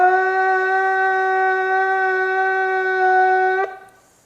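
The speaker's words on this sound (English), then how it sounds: "That's the tekiah, that's the long sound." A single long, steady tekiah blast from a shofar, loud and unbroken for over three seconds before cutting off abruptly.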